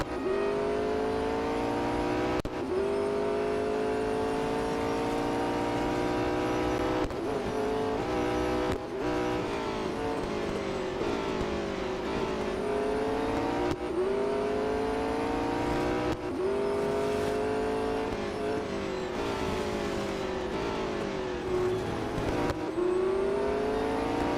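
Race car engines in the Real Racing 3 video game at Daytona International Speedway give a continuous high whine that climbs and falls repeatedly through gear shifts, steady and moderately loud without talking.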